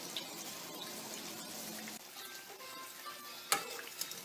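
Lentil patties frying in oil, a soft continuous sizzle with faint bubbling, brief utensil clinks and a sharp clatter near the end, close and quiet.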